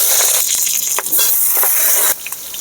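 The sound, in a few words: eggplant pieces frying in hot oil in a wok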